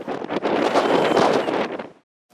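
Strong wind gusting outdoors on a pool patio, a loud continuous rushing roar buffeting the microphone, then cutting off abruptly into silence near the end.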